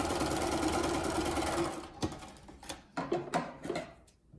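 Sewing machine chain piecing quilt blocks: a dense steady stitching run for the first half, then stops and a few short bursts of stitching with brief gaps, close and clear.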